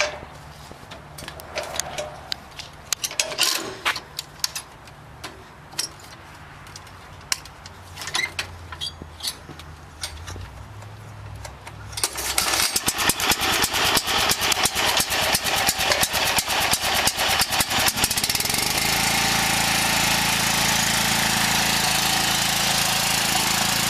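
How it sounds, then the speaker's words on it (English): A Scag lawn mower engine is cranked and fires up, settling into a loud, steady idle with a knocking rattle that continues to the end, with no talk. "Now I will demonstrate the entire process of how to turn on a scag mower."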